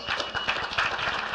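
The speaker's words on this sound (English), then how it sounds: "Give yourself a round of applause." A banquet audience applauds steadily throughout, a dense crowd of clapping hands with no pauses.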